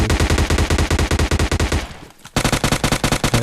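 Automatic gunfire in the video game PUBG Mobile Lite rattles in rapid, evenly spaced shots, loud and close, pausing for a split second before another fast burst.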